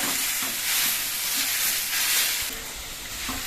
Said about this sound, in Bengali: পটল আর আলু ঘষাগুলো দিয়ে দিচ্ছি নেড়ে তেড়ে তেলের সঙ্গে মিশিয়ে দিতে হবে